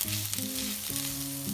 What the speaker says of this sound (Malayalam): സവാള നന്നായി ഒന്ന് വഴന്ന് വരുന്നതിൽ കിടന്ന് സവാള നന്നായി വഴന്ന് വന്നിട്ടുണ്ട്